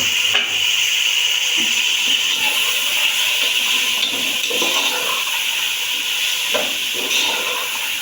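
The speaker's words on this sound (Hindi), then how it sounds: "अभी मैं डालूँगी इसमें चने" Chickpeas tipped into a hot pot of oil for Kabuli pulao, giving a steady loud sizzling hiss that runs throughout with a few brief clatters and stirs, close and alone without talk.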